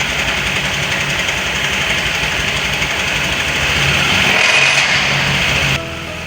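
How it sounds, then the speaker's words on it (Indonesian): A Honda Vario 125 scooter engine idles after a water pump replacement, with a steady, close mechanical hum and a slight rise in loudness near the end before it abruptly drops away. "Mesinnya sudah dinyalakan."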